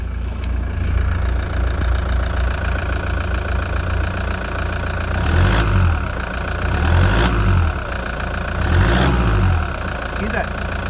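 A remapped car engine fitted with new injectors runs steadily at idle, with a low rumble and three swelling pulses where a knock or manifold-leak-like noise rises, heard close up with no talk over it.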